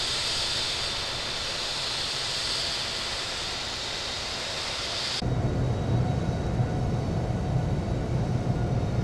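Airliner in Infinite Flight taxiing toward runway 34 right at Mumbai, a continuous broadband jet engine roar and hiss that shifts to a deeper, louder rumble partway through, with no talk.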